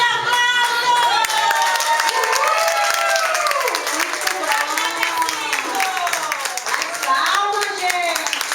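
A crowd claps steadily and loudly throughout a school cultural-week performance, with children's voices chattering and calling over the applause.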